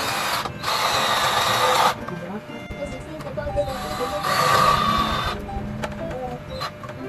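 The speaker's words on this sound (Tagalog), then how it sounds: "Pero para mapadali ang buhay, is gagamitan ko na siya nitong electric drill." Electric drill driving screws into parts of a minimalist study table during assembly, with two sustained whirring bursts separated by quieter handling noises, close and fairly loud.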